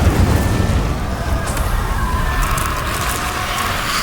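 Incendio fire spell cast in Hogwarts Legacy, a loud sustained roaring whoosh of flame with a booming rumble underneath, steady throughout and without speech.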